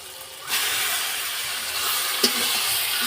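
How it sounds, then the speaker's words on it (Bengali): Marinated poultry chicken drops into a hot pan of spices and sets off a sudden, loud, steady hiss that carries on unbroken, with a brief clatter partway through. "এবারে মাংস ম্যারিনেট করা ছিল, এবার মাংসগুলো দিয়ে দেবো"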